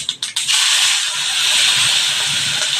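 A sudden burst of sizzling as tempering with turmeric hits hot oil for a kuda bean pod dish, settling into a loud, steady hiss after a few quick crackles.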